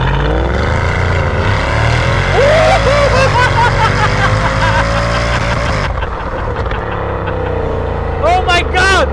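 A Mercedes-Benz CL63 AMG accelerates hard, its engine roaring loud and close with rising revs through the clip, while a person speaks over it.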